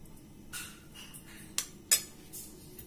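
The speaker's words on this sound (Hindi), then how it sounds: "इसको अच्छे से मिक्स कर लीजिए।" A spoon clinking and scraping in a bowl while aloo chaat is mixed with lemon juice and salt, a few soft metallic taps and two sharper clinks, quiet and close.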